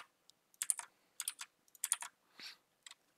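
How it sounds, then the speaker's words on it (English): Keystrokes on a computer keyboard as a repository name is entered, several short bursts of quick clicks with brief pauses between them, close and fairly quiet, with no voice. "you're going to type in your repository name"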